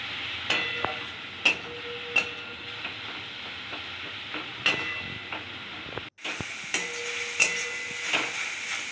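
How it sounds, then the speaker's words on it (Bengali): Grated carrots fry in a pan with a steady sizzling hiss, broken by sharp scraping stirs at irregular intervals, close and moderately loud, with no voices. "গাজরটাকে ভালো করে ভাজা ভাজা করতে হবে, নাড়তে হবে।"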